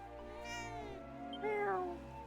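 A single drawn-out cat meow from a video game (Dragon Quest VII Reimagined), clear and close, rising then falling, over a quiet steady background hum.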